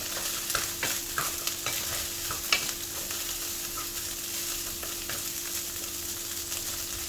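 Leftover rice stir-fried in a wok for egg fried rice, a steady close sizzle with scraping stirs and occasional spatula clinks, no talk.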